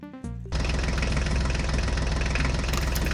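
A Swaraj toy tractor's engine sound kicks in after a brief start-up and settles into a loud, steady, knocking idle rumble that runs close and unbroken to the end.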